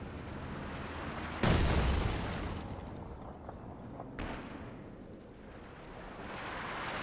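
An artillery barrage in the strategy game Company of Heroes 2 lands with a sudden loud, close boom, followed by a rumbling decay and a fainter second impact a few seconds later.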